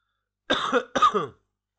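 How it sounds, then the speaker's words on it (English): Two short, harsh coughs from a sick person in quick succession, close and fairly loud, with no talking around them. "I'm still coughing a little bit"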